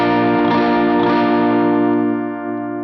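A Stratocaster electric guitar with two pickups wired in reversed polarity rings out one sustained, thin, nasal chord that fades slowly, heard alone.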